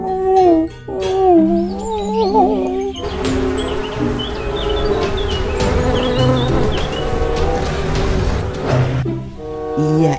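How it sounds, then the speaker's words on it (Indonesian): A honey bee buzzing in a loud, wavering drone with shifting pitch, heard up close and continuously. "Lebah madu, teman-teman."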